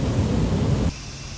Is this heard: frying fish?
no